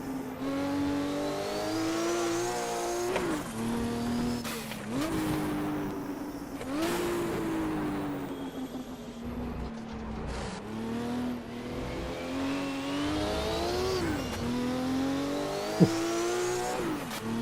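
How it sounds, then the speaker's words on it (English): Group 5 race car engines in the video game Automobilista rev and shift through gears in repeated rising whines, close and steady, with brief tire noise and other cars audible around it. "a really good ambiance around the circuit with the opponent car's engine sounds"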